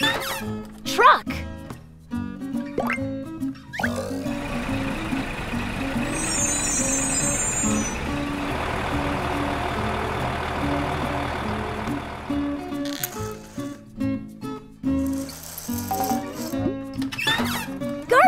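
A truck engine rumbles steadily at close range for several seconds, with rattling and a brief high beep, framed by short bursts of other sounds before and after.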